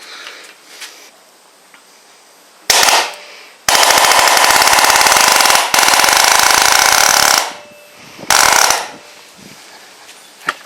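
Grip Rite GRTMP16 mini air nailer driving nails into dense timber, firing in loud rapid bursts: a short burst, two long sustained volleys, then a final short burst, close up with quiet pauses between.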